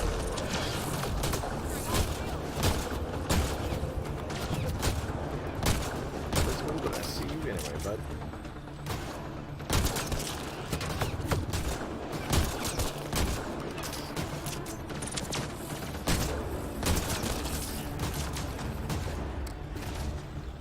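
Gunfire in the Mass Effect Andromeda video game, including pistol shots, comes as rapid bursts and repeated loud cracks over a busy combat soundscape, with a voice talking at times.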